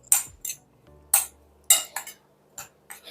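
A spoon works jackfruit and jaggery batter in a bowl, giving sharp, separate clinks against the bowl at an uneven pace, about eight strikes with near-silence between them.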